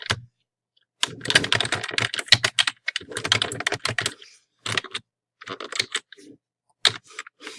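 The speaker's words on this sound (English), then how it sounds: "type in your username and your AR password and click Submit" A username and password are typed on a computer keyboard in quick, close-up bursts of key clicks separated by short pauses, with a few isolated taps near the end.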